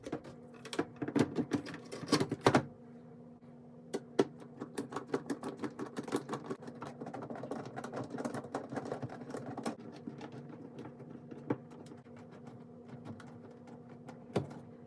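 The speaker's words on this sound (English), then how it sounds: "we'll use our Phillips head screwdriver to put these on" A Phillips head screwdriver drives screws into a bathroom vanity light's backing plate, giving faint, irregular clicks, ticks and scrapes with brief bursts of rapid tapping and no talk.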